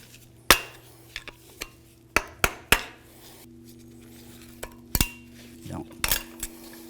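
Metal tools clink and tap sharply while a snap ring is worked off the lower ball joint of a Ford F250 (1999-2007). The impacts are scattered, close, and come one at a time.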